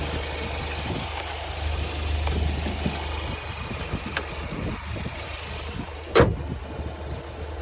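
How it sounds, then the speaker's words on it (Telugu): Hyundai Venue engine, about 1.2 lakh km driven, idling steadily after a carbon cleaning treatment, a continuous close low hum with no talk and a brief sharp noise near the end. "ఆఫ్టర్ యాంటీడాట్ ప్లస్ తర్వాత మనం ఇంజన్ నాయిస్ని చాలా క్లియర్గా అబ్జర్వ్ చేయొచ్చు"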